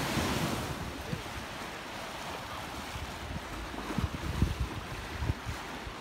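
The Severn tidal bore wave surging up the river, a continuous rushing roar of broken water with wind buffeting the microphone and occasional louder splashes.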